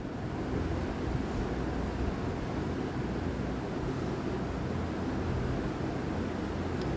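A kitchen mixer grinder runs steadily, grinding green moong batter with chillies, ginger, garlic, cumin and black pepper, a continuous whirring roar that stays even and close, with no talk over it.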